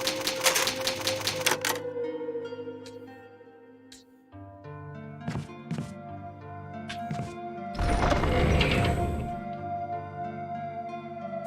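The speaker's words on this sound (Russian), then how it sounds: "Старая печатная машинка." An old typewriter used to save the game in Resident Evil HD Remaster clacks in bursts of keystrokes and thumps, with a ringing tone and a louder mechanical clatter near the end, and no talk over it.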